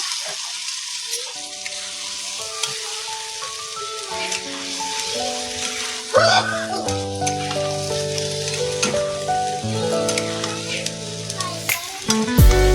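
Steady sizzling of spice paste frying in a hot pan for a taro stolon dish, crackling throughout with soft music playing underneath.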